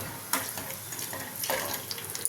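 A spoonful of peanuts sizzles in two spoons of hot oil for a tamarind rice tempering, a soft close crackle with a few brief stirring scrapes and splashes.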